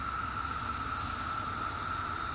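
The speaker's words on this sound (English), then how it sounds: "Do you hear this? This is the world center for cicadas." Periodical cicadas fill the air in Princeton, New Jersey, with a dense, unbroken droning chorus. The sound is steady and even, and no voices are heard.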